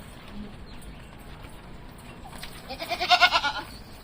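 Goats being loaded for sale bleat in a brief, loud burst near the end, after quiet shuffling and faint background movement.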